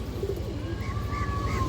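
A boot-beaked Kajla Potti pigeon, a male, makes a brief low cooing burst close by, rhythmic pulses with a faint higher whistle-like tone above.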